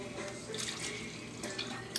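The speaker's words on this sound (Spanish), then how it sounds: "Vamos a ponerle un bolsito de esto de agua." Water pours steadily into a cooking pot as broth is prepared for Dominican-style rice with black beans, a continuous hissing splash at close range with no talking.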